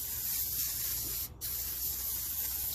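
An aerosol finish is sprayed thickly onto a Special Forces shovel's wooden handle outdoors, a loud close continuous hiss with one brief break in the middle, no talking.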